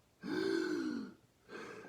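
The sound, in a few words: tense loud deep inhale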